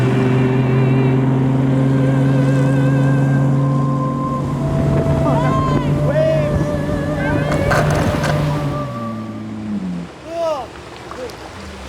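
A motorboat towing a wakeboarder gives a steady droning engine hum that later fades into wind buffeting on the microphone. A few short spoken words come through.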